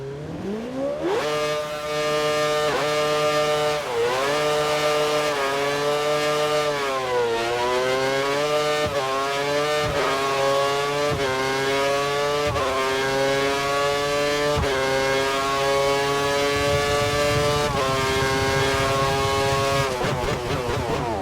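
A Formula 1 car in the F1 2013 video game on a wet track, its high-pitched engine revving and shifting through gears repeatedly, steady and prominent without speech.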